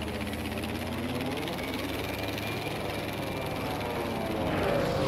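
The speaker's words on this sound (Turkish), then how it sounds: "Uçak geliyor peşime." A propeller warplane in the Battlefield 5 video game drones steadily nearby, its engine a continuous buzzing roar that grows slightly louder toward the end.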